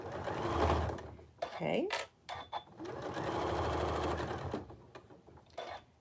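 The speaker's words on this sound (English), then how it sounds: "I'm just going to back stitch just a tad" A sewing machine stitches a fabric surgical face mask in short bursts, whirring up to speed, stopping, then running again through a longer steady stretch, with a brief spoken word in between.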